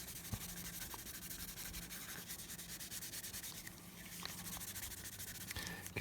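Graphite is scrubbed onto the plastic surface of a 1/48 scale model kit with steady, faint, close rubbing and scratching strokes and no voices.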